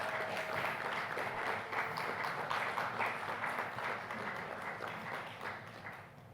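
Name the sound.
applause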